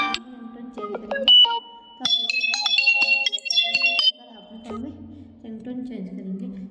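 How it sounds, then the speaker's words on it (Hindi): A Vivo Y02s phone plays a bright electronic ringtone melody of stepped beeping tones, clear and close, while a person talks over it at moderate volume. "यहाँ से आप कोई भी रिंगटोन चेंज कर सकते हैं"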